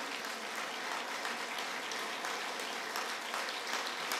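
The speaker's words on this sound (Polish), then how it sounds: "Burza oklasków, proszę Państwa." Audience applause at a talent-show stage event, a dense steady wash of clapping that holds loud and even throughout with no voices over it.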